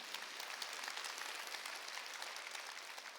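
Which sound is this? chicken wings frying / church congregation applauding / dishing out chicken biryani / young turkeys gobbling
church congregation applauding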